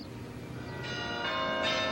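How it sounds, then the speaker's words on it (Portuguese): Carillon bells ring out at Mafra palace, home to a 92-bell carillon, with several bright, sustained chimes striking one after another and ringing on over a low hum of room noise. "o maior carrilhão do mundo com 92 sinos"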